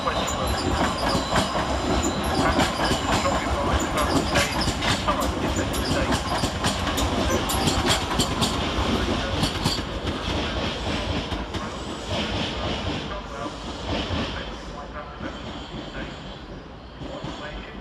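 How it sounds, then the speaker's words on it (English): London Overground class 378 electric train departing London Euston, loud wheel rumble and rhythmic clickety-clack with occasional squeal, gradually fading toward the end. "Next out to depart is 378 220, working the 15:30 London Overground service to Watford Junction"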